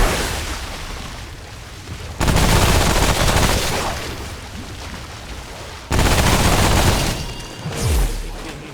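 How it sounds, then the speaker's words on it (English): Enemy fire in Remnant: From the Ashes, loud bursts of shooting and booming blasts in two sharp waves separated by quieter rumbling stretches, close and harsh with no talk. "Well, it shoots me with corrosion then."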